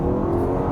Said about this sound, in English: shift down and then put my foot down